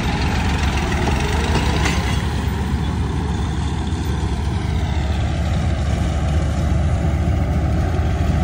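An Arjun Novo 655 DI 4WD tractor engine idles steadily and loudly up close, a continuous low diesel rumble with no voices.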